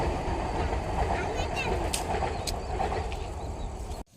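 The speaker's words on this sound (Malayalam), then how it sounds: "വന്ദേ ഭാരത് ട്രെയിൻ പോണ്" A Vande Bharat express train rumbles past with a steady, heavy roar that holds throughout, then cuts off abruptly at the end; a voice is faintly audible.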